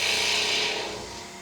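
A wood lathe spins up to turn a wooden blank for a chalice, giving a steady broadband whir and hiss that eases slightly toward the end.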